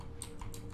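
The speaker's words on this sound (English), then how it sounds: "Dia bunyi mechanical keyboard dia." Mechanical keyboard keys clacking in quick, faint taps, a few crisp clicks within under a second against a low steady hum.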